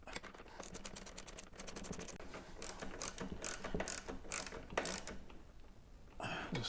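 A hand ratchet tightens the cover bolts on a lawn mower engine, rapid bursts of crisp clicking repeated in several quick runs with short pauses, close and fairly quiet.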